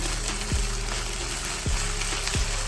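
Ginger garlic paste sizzles steadily in a hot pan with onions for chole, a continuous close frying hiss broken by three soft scraping stirs.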